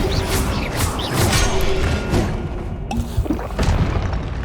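Flipendo spell effect from the Hogwarts Legacy video game: a run of loud booming impacts, crashes and whooshing magical bursts up close, with no talk.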